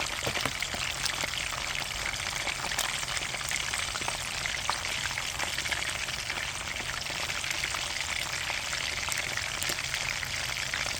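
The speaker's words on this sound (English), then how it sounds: "So I might as well just put these right in the oil also. Fry them up." Duck heart, liver and neck pieces fry in hot oil, giving a steady, dense crackling hiss that runs unbroken from start to finish at close range, with no voices.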